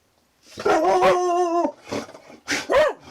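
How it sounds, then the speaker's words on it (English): A dog barks and yowls several times in a deep, drawn-out voice, loud and close, with short pauses between the calls. "Tuco will let out this deep, very scary sounding bark"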